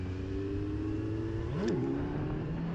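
A Kawasaki Z900 motorcycle engine revs hard during a wheelie, a steady close drone that swells and briefly spikes in pitch before settling back, with no talking over it.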